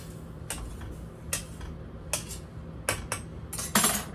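A spoon stirs rice and butter in a pot on an RV stove, making light, irregular clinks and taps against the metal, about six distinct hits over a steady low hum.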